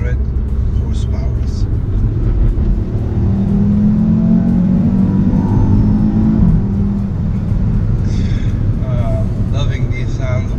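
Audi RS3 with a 2.5-litre turbocharged five-cylinder making 400 horsepower and quattro all-wheel drive, heard from inside while driving: a steady, loud engine drone that rises slightly mid-way, with someone talking over it throughout.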